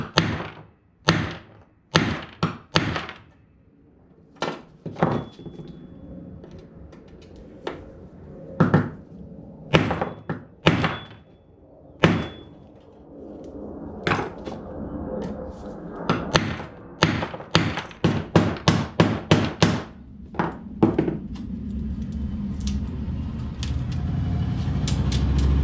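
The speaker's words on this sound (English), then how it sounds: "we'll use this chisel to get it to flatten out" A chisel is hammered repeatedly against a metal manual tailgate part of a 1984 K5 Blazer, giving sharp, uneven metallic strikes in bursts, some rapid, close and clear, with a rising background rumble near the end.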